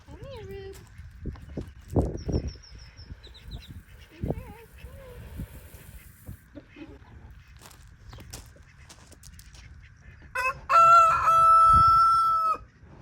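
Rooster crowing outdoors at a farmhouse, a loud close crow near the end following scattered clucks and farmyard sounds, with a person talking earlier.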